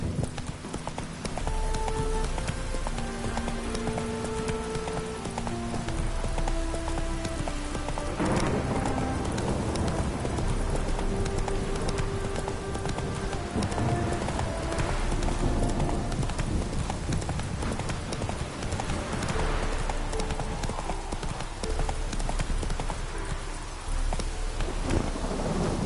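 Roach, the horse in The Witcher 3: Wild Hunt, gallops in a steady, continuous clip-clop of hoofbeats, heard close amid rain and rumbling thunder with soft game music underneath.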